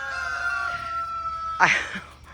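A rooster's crow rings out in a garden, fading, followed by a brief squawk or second call, faint and somewhat distant against quiet surroundings.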